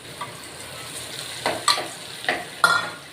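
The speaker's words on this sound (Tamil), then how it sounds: "இந்த கடலை மாவு போட்டு நல்லா வறுக்கணும்." Gram flour (besan) roasts in a pan for Sindhi kadhi, a soft, faint sizzle broken by a few short scraping stirs near the end.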